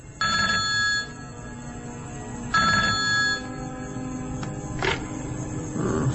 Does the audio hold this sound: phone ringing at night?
yes